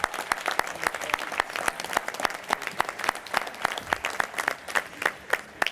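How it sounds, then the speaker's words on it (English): Sustained audience applause at an architecture conference gala, dense overlapping claps with sharp individual hand strikes standing out, steady and fairly close throughout, no talking. "give a big round of applause to Jamaica Sims, who was the jury advisor."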